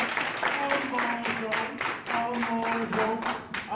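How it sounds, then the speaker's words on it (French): Primary school classroom children applauding a classmate in rhythmic group clapping, steady and moderately loud, with children's voices chanting or talking along underneath. "applaudissez votre camarade."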